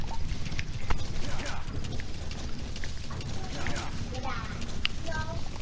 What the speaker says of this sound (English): I'm riding a horse right now.